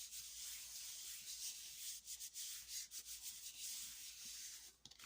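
Steady, close scratchy rubbing of a piece of card across a Gelli printing plate inked with Distress ink, continuous brushing strokes with small dips, quiet and without speech.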